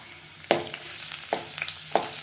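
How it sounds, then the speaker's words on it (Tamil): Garlic sizzles steadily in sesame oil with three sharp scraping stirs of a spoon in the pan, close by and without voices. "நல்லா செவக்க வறுத்துக்கலாம்."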